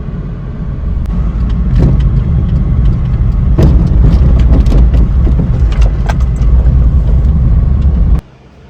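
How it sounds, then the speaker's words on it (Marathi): Petrol car engine idling steadily at a fuel station, a loud continuous mid-low rumble with a few clicks and clatters over it, cutting off near the end. "इकडे बघा पेट्रोलची गाडी पण चालू होते."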